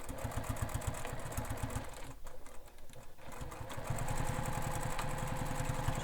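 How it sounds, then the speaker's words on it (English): A sewing machine runs fast and steady while stitching two rows on a bag strap, pausing briefly midway before resuming its rapid mechanical chatter. "So I'm going to do 2 rows of stitching just to really ensure that it's secure."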